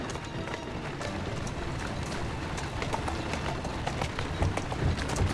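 Horse hooves clip-clop at a steady running pace through a busy game soundscape in Assassin's Creed Syndicate, the hoofbeats dense and continuous under ambient street noise, growing a little louder toward the end.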